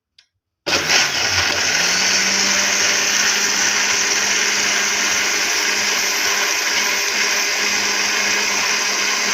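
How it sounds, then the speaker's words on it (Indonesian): A kitchen blender whirs loudly, blending a seasoning paste with pepper for a grilled chicken and fish marinade. After a brief moment of silence it starts abruptly and then runs steadily at full power, close up and alone. "Kita blender lagi."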